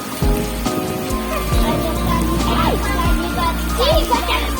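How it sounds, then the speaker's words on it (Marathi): Heavy rain falls close by with dense pattering and thumping drops on surfaces, loud and continuous, while a voice speaks briefly underneath. "तिथे बघा किती पाणी टपटप टपटप पडतंय"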